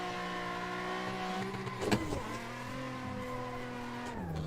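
A Nissan 350Z drifting in tandem at a drift event, with a sustained engine note that shifts pitch as it revs and tires squeal, heard from a moderate distance with a brief sharp impact-like burst midway.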